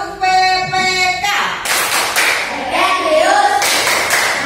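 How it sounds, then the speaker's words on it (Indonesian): A group in a classroom teaching session performs the PPK clap routine, sharp rhythmic hand claps coming in clusters, mixed with voices chanting and talking close by. "sekarang mari kita melakukan tepuk PPK dan salam BPK ya"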